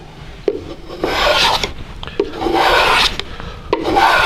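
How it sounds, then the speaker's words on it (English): A miniature saw scoring light cuts into a small piece of wood, giving several short back-and-forth rasping strokes that are close and fairly loud, with faint clicks between passes. "I can score and lightly make saw cuts in that piece of wood"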